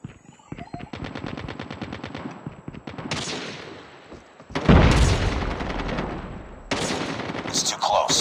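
Automatic gunfire in a video game rattles in fast, close bursts of rapid shots, separated by brief pauses, with heavier booming volleys in the second half.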